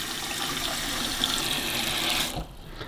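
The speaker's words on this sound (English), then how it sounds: "just add some cold water" Cold water runs steadily from a tap into the removable water tank of a De'Longhi Magnifica S coffee machine, a close, continuous splashing hiss that stops abruptly near the end.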